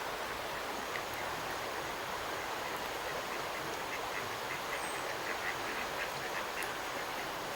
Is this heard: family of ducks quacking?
yes